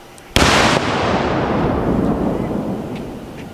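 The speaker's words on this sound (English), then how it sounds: "once that expansion reaches the threshold of the limits of that pipe, that's when you get the explosion" A sudden, loud blast of powder confined in a pipe bursts during a police demonstration of meth-lab dangers, then fades into a long, rolling broadband rumble that slowly decays over several seconds.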